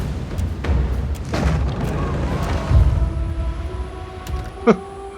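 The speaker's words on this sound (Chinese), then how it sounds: "爆炸了，真的爆了" A deep, rumbling boom with a sharp pop near the end from an explosion in the video game Pillars of Eternity II: Deadfire, set against a steady low background hum.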